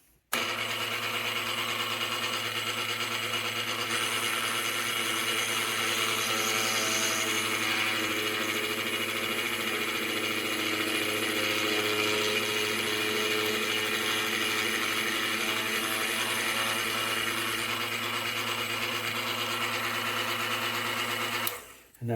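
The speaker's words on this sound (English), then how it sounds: "we're going to bore this thing out to 1 mil" A small drill boring out a watch bracelet link with a 1 mm bit, a steady high-pitched motor whir held continuously for about twenty seconds, close and even, with no talking.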